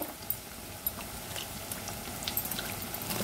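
Eggplant pieces dropping into hot oil with already-fried onion in a pan for a dried-shrimp eggplant and mango curry, giving a faint, steady sizzle with scattered small pops and bubbling.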